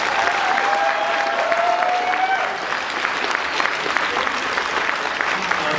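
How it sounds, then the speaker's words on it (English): Audience applause for game show contestants at a stage event, steady sustained clapping from a crowd, fairly loud and even throughout with faint voices underneath. "let's give them all a round of applause"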